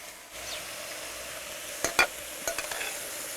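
Fish head on a bed of onion cooks in a pot with a quiet, steady sizzle, broken by a few sharp clinks and taps near the end.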